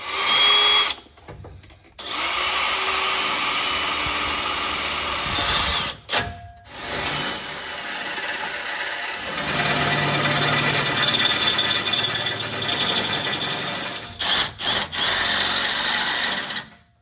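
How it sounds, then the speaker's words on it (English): A power drill drilling the head off a bolt on a Chevy K1500 6.5 diesel whines loudly and steadily for long stretches, stopping briefly a few times before starting again. "So we'll just start drilling and drill that head off of there."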